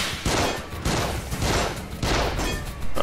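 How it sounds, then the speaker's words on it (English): An enemy fires at the player in The Evil Within, a run of heavy, booming gunshots landing in quick bursts, loud and close, with no voices between them. "He's shooting at me."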